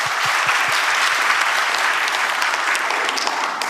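An audience applauds a speaker at a government national-policy report event in Korea, a loud, dense, continuous burst of clapping from a large crowd.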